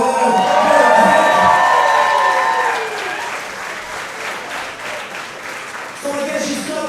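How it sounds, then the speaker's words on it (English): Loud crowd applause with cheering and whoops at a pro wrestling event, sustained and dense throughout, fading slightly midway, with a voice cutting in over it toward the end. "can we have a round of applause for her?"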